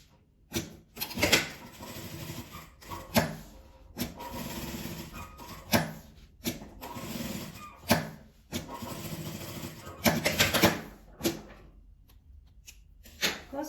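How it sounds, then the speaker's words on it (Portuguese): A sewing machine stitches a label onto fabric in a series of short, rattling motor bursts, some brief and some lasting a second or more, separated by quiet pauses, with no voices. "E vou costurar ela aqui em volta."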